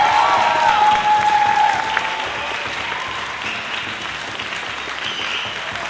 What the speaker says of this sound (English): Let's give a big round of applause to our last group of seniors.